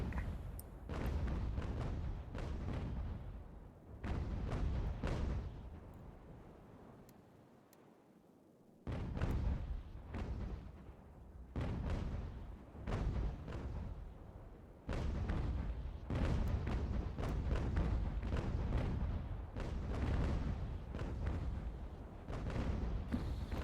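Cannons fire in a naval battle in Ultimate General: American Revolution, heavy booming volleys in dense bursts with a rumbling tail, including a short lull midway before repeated blasts resume, loud and close throughout.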